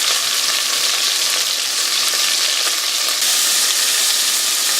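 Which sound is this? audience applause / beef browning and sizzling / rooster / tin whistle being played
beef browning and sizzling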